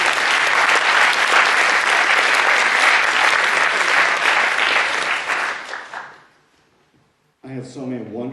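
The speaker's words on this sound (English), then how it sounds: "Give them all a big round of applause." An audience at an evening stage show applauds loudly and densely for about six seconds, then fades to silence before a voice begins speaking.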